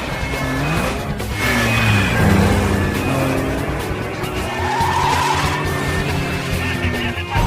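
Police cars in a film car chase skid and crash, with continuous loud tire squeal, engine roar and wavering screeches layered over dense traffic noise and impacts.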